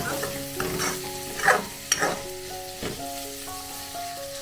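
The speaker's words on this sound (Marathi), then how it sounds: "असे मिक्स करून घ्यायचे व्यवस्थित, असे सगळीकडून मसाला लागला पाहिजे त्याला" Dried fish being tossed with masala in a pan, giving a loud, busy stir-fry of scraping and sizzling with several sharp clatters, while a faint musical tone plays underneath.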